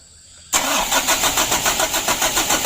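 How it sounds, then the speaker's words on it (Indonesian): The 2007 Mitsubishi Canter truck engine cranks on its starter after a quiet moment, giving a loud, rhythmic chugging with evenly spaced pulses that doesn't catch and fire. "Kita starter dulu."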